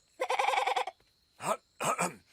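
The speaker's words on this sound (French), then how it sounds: "Que vient de dire le mouton?" An animated cartoon sheep bleats, first in a long wavering bleat, then two shorter bleats after a brief pause, loud and close with no other sound around them.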